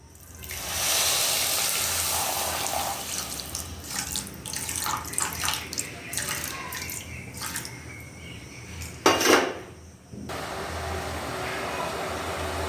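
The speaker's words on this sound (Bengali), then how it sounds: "অল্প করে জল দিচ্ছি" Water is poured in a small stream into a wok holding a cup of sugar to make syrup for mini gulab jamun, a close trickle and splash with a brief clink near the end.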